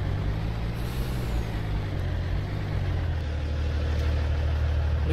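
A truck engine idles steadily in Farming Simulator, a continuous loud low rumble with a brief hiss like an air brake near the start, and no talking over it.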